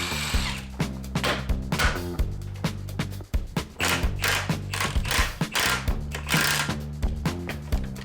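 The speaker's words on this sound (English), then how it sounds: "first step is gonna be unbolting it all." A power tool backs bolts out of a Ford Foxbody engine as a loud, continuous whirring drill burst with rapid rattling impacts, stuttering on and off close by with no talking.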